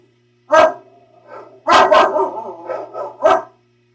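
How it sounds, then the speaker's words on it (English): A puppy barks several times, close and loud, in short sharp yaps with brief gaps between them, heard indoors with no one talking. "The puppy dog's having field day."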